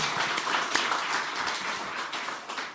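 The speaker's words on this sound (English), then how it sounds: "How about a round of applause for Zena and her team for their effort" Audience applause at a university announcement event about the Texas A&M and UT Austin rivalry, a steady wash of many hands clapping at moderate distance, fairly faint and without talk.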